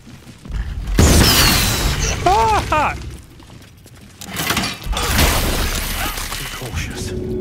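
A missile blast in Baldur's Gate 3 erupts in two loud, booming and shattering bursts with debris crackle, separated by a quieter lull, while a person talks over the noise.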